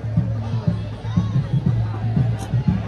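Pilgrims thronging the Ekvira Aai palkhi procession make a continuous murmur of crowd noise, while a nearby person talks over the hubbub.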